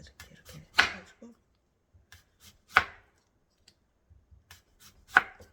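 A knife thinly slicing radish on a cutting board: three sharp, separate chops spaced about two seconds apart, close and clear, with faint soft handling noises between them.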